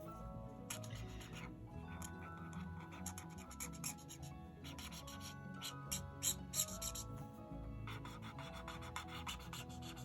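Coloured pencil shading on paper with a brick brown pencil, a close, steady scratchy rasp of repeated strokes running throughout with brief pauses between bursts.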